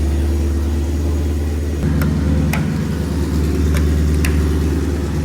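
Mercedes C63 AMG engine running loud and close after starting on fresh fuel, a deep steady rumble with a slight rise in revs midway and a few light clicks.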